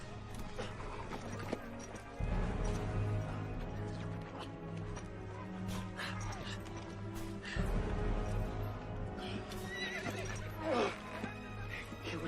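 A horse whinnies loudly several times amid hoofbeats, shouts and a dense, busy outdoor battle scene, with the neighs rising clearly above the surrounding clatter.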